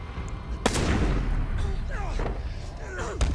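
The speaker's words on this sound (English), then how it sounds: "Oh, he just shoots himself." A single sharp gunshot cracks out loud and near in the game Beyond Two Souls, followed later by a couple of further sharp impacts amid background game sounds and brief chirpy effects.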